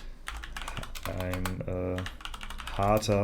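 Quick keystrokes tap on a computer keyboard while a message is typed in the online game Shakes & Fidget, the clicks sounding in close bursts under someone speaking German.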